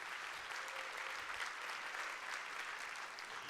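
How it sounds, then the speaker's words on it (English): An audience at an awards event honoring 50 women gives a steady, even round of applause, with dense clapping sustained throughout at a moderate distance and no voices over it. "let's give a round of applause to those 50 women"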